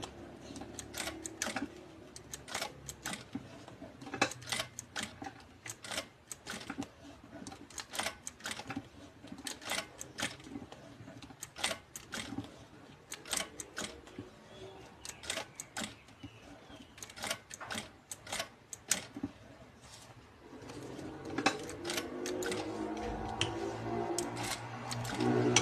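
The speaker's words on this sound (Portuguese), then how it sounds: "tô fazendo aqui a costura toda a volta da onde ficou o nosso furo pra sair as sacolinhas" Sewing machine stitching a lining around the opening of a fabric bag dispenser, quiet rapid mechanical chatter in repeated short runs separated by pauses, ending with a denser backstitch burst.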